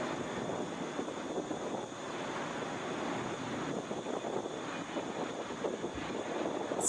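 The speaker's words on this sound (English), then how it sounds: "this is Delta 2206, headed to Lexington in a Boeing 717." A Delta Boeing 717 airliner taxiing at Atlanta International Airport, bound for Lexington, gives a steady, moderate jet engine whine and rumble mixed with wind noise, continuous throughout with no talk.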